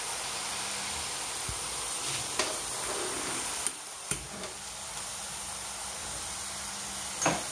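Leeks caramelizing in melting butter in a pan over a gas flame give a steady, close frying sizzle, broken by a few sharp clicks and knocks.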